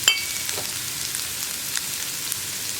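Sliced onions sauté in hot oil in a pan for chicken kurma, giving a steady, even hiss and sizzle close up, with an occasional faint tap of stirring.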